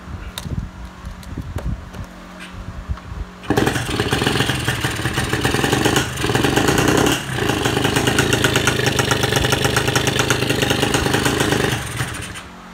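Motorcycle engine with a too-small pilot jet cranking and catching, then running roughly and unevenly for several seconds with dips before stalling and cutting out near the end, close and loud.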